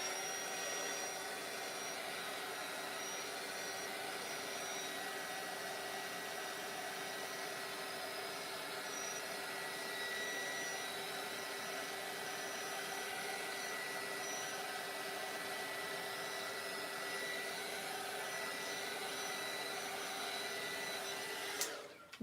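Hair dryer blowing air to dry paint on a constellation artwork, a steady loud whooshing hum that runs unbroken for about twenty seconds before cutting off, close by with no talk.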